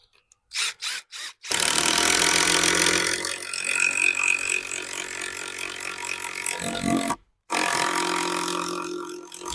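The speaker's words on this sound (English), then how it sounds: "we're going to try and drill through with this bolt to sort of pilot drill it first" A power drill uses a bolt as a pilot bit to bore through a wooden sleeper for a pond build. A few short revving bursts lead into loud, sustained grinding drilling, which briefly stops near the end and then resumes.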